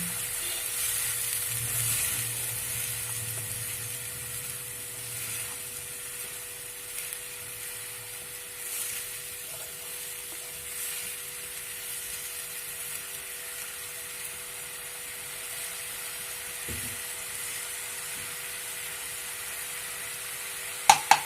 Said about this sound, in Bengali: রসুন এবং পেঁয়াজ বাটা ভালো করে